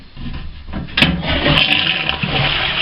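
A toilet cistern on a 60-plus-year-old Brent toilet flushes close by, water rushing loudly and steadily after a brief click, filling out into a continuous gushing drain.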